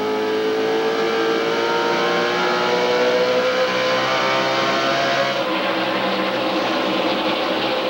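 Race truck engines howl near nine thousand rpm during a 2000 NASCAR Craftsman Truck Series race, a loud sustained multi-engine drone with shifting pitch as trucks run in a pack, steady throughout with no talk.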